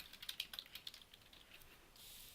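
Quick bursts of keystrokes on a computer keyboard as a new group name is typed into desktop software, a short run of light, close taps followed by a faint, steady background hiss.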